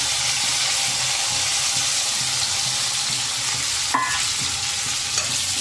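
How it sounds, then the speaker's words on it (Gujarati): Chopped onions frying in a pan for Kutchi khari bhat with peas, a dense continuous loud sizzle with stirring and one clink of a utensil, no voices. "જે કાંદા કટ કરીને રાખેલા છે તે નાખી દેશું।"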